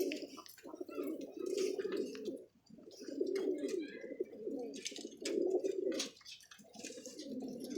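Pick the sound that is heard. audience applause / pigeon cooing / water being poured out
pigeon cooing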